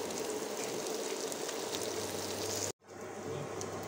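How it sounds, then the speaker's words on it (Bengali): Onions fry with red chilli powder and fresh coconut in a pan, a soft continuous crackling sizzle at low level, briefly cut by a sudden gap before resuming. "পেঁয়াজগুলো হালকা ভাজা হয়ে গিয়েছে"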